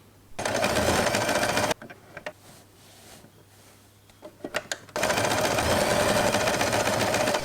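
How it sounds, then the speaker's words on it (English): Sewing machine stitching fabric for a scrunchie, running in two loud steady bursts that start and stop abruptly, with soft handling clicks and rustles in the pause between them. "Then pull the fabric and continue sewing."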